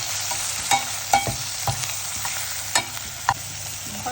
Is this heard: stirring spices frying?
yes